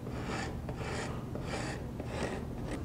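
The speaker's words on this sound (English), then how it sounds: "I'm just cleaning it up and trying to flatten it as close as I can to the edge banding and the border with a card scraper" A card scraper is drawn across a veneered wooden tabletop near the edge banding in about five steady, rhythmic rasping strokes, close and clear.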